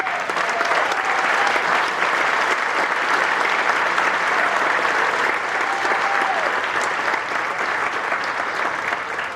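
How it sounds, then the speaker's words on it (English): Sustained applause from the audience at a veterans park dedication ceremony, steady and full for over nine seconds, with faint voices and a few whoops rising through the clapping. "you owe them a round of applause."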